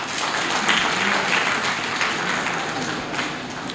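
An audience at a science olympiad prize ceremony applauds, a steady wash of many hands clapping that stays even for several seconds with no speech.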